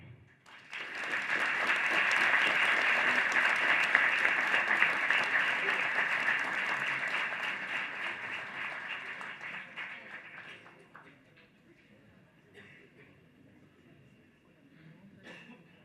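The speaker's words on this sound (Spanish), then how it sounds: "Damos la cordial bienvenida al profesor con un caluroso aplauso" Warm audience applause welcoming a professor at the opening of a talk on social movements and constituent power, a dense sustained clapping that fades after about ten seconds into quiet room noise.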